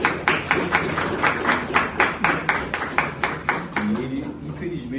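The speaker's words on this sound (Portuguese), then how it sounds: "Eu queria pedir uma salva de palmas ao professor Jorge." A small room audience claps for a professor at the closing session of a philosophy education conference, a steady run of sharp, close handclaps lasting several seconds, with a few voices under it near the end.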